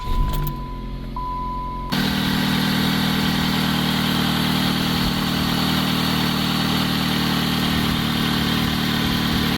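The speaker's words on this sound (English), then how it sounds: "Let your car run for a couple minutes to warm up the oil" A car engine idles steadily with a low, even rumble and faint vibration, close by, warming up before an oil change; a brief quieter stretch at the start before the engine noise settles in.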